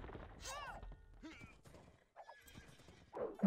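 Horses in the Age of Empires 2 video game whinny in several sharp bursts alongside hoof clip-clops and battle effects, loud and close amid game sounds.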